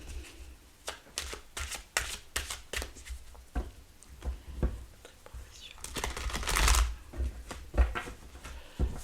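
Tarot cards are shuffled by hand in a series of quick, crisp riffles and flicks, close and irregular in rhythm, with a little talk in the background.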